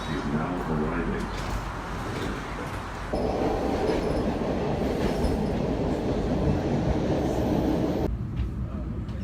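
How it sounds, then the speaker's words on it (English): An Orange Line subway train pulls into a station with a rumbling, clattering approach and squealing wheels, while a platform announcement and a voice are heard over it. "Orange Line train to Forest Hills is now arriving."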